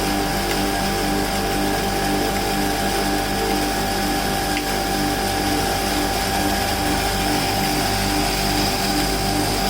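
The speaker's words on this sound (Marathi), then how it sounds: "आता जसा आपला 7-8 एम्पियरवर चालू आहे मशीन" A stainless steel 2-in-1 pulverizer machine running at about 7-8 amperes while grain is fed in, giving a loud, steady mechanical drone with constant whirring and hum throughout, no voices.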